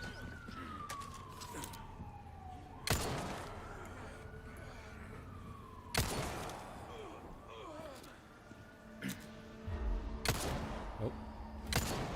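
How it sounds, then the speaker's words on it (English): A police siren in the video game Resident Evil 4 wails with a falling, sweeping tone behind game action, broken by sharp loud gunshot-like bangs, while a player talks quietly over it. "Oh, and of course, police siren as I go."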